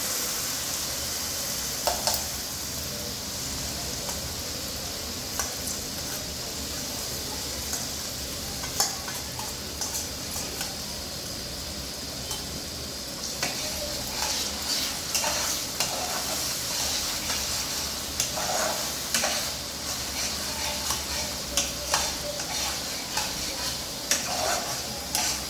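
Ginger, garlic and green chili paste fries in a pan for a Bengali pabda fish curry, with a continuous sizzle and repeated scraping stirs and light utensil clicks, near and steady with no talking.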